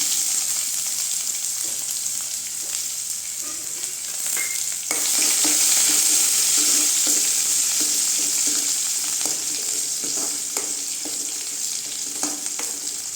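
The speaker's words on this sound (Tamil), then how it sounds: "வெங்காயம் வதங்கட்டுங்க." Onions and curry leaves with cumin sizzle steadily in a pan while being stirred, a dense close frying hiss with scattered scraping clicks of the spoon and no talk.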